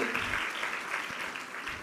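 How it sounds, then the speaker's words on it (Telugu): A church congregation claps steadily, a dense patter of applause throughout with no pauses. "ఒకసారి చప్పట్లు కొడతారా మీరు?"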